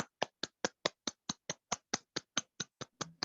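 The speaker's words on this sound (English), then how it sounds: "Please give round of applause to Toastmaster Kiki." Steady, evenly spaced claps, about sixteen in a row from what sounds like a single pair of hands, welcoming the Toastmaster at a Toastmasters club meeting; crisp and close, with no other voices.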